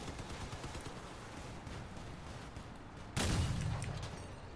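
Vehicle-mounted weapon fire in the Crossout combat game: a busy stretch of layered gunfire and rumbling battle noise, then a sudden loud, broad blast that hangs on for over a second before easing off.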